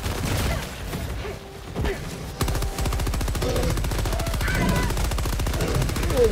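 Rapid automatic gunfire from Helldivers 2 during a fight against bugs, with dense bursts of rattling shots that keep going for several seconds, loud and close, mixed with game effects and occasional player voices.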